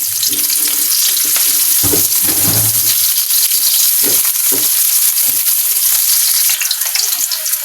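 Onions sizzle steadily in hot oil in a pan for a Filipino sardine-style fish dish, a loud continuous frying crackle with occasional stirring scrapes and brief watery sounds.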